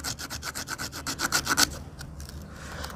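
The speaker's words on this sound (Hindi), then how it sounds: "इस तरीके से घिस लेना है घिस के मतलब धार को बिल्कुल ख़त्म कर देना है" Rhythmic rasping strokes as a metal sewing machine part is rubbed smooth to take off its sharp edge, about a dozen quick back-and-forth scrapes up close, then stopping into quiet.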